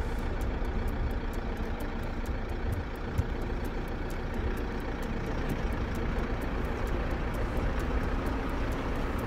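Steady vehicle engine idling or rumbling at close range while the vehicle rolls downhill on a slope with its brakes released, a constant low drone with no voices.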